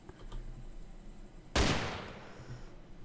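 A single sharp gunshot in the video game Arma 2 DayZ Overpoch, a sudden loud crack with a trailing decay over quiet background game ambience and faint keyboard clicks.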